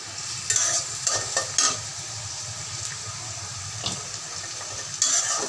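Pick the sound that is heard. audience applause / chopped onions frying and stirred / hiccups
chopped onions frying and stirred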